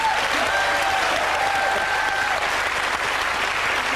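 A TV panel show studio audience breaks into dense, steady applause that fills the room from start to finish, loud and close, with faint voices briefly under it.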